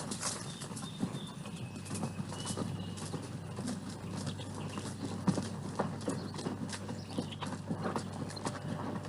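Horses on a ranch trail ride walk along with steady, overlapping clip-clop hoofbeats at moderate distance, a continuous relaxed rhythm with faint birds in the background.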